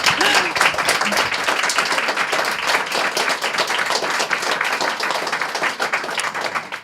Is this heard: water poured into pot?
no